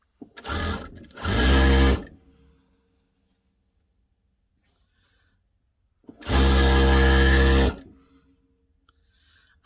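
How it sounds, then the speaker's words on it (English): Two loud bursts of a Dürkopp Adler 281 sewing machine stitching fabric, a short run then a longer one, separated by several seconds of near silence. "My sewing machine is a Dirk-Off Adler 281"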